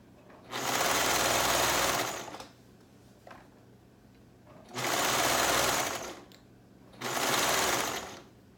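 Three bursts of fast, loud sewing machine stitching run along ruffle strips for a dress pattern, separated by short quiet pauses.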